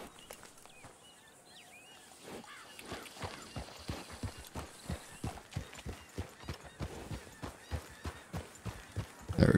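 A horse trots in steady, rhythmic clip-clop during a ride in Red Dead Redemption 2. The hoofbeats are close and clear and grow slightly louder, with no talking.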